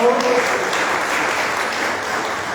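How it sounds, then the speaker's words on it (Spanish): Audience at a Guatemalan peoples' gathering on good living breaks into dense, even applause that holds at a steady level throughout, with a brief voice at the very start. "Un aplauso, por favor."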